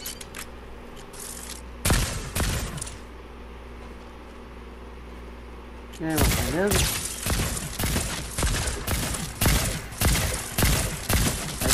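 Rapid bursts of gunfire in the Fortnite video game, sparse shots at first and then a dense, loud barrage of repeated cracks, with someone talking over it.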